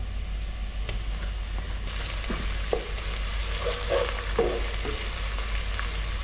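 A steady sizzle of ginger garlic paste frying in a hot pan, with occasional scraping stir sounds over a low background hum.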